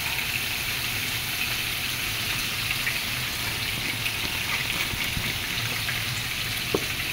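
Soy sauce goes into a pan of adobong kangkong (water spinach) already cooking with vinegar, and a steady, dense sizzle like heavy rain carries on without pause, close and even, with a faint clink near the end.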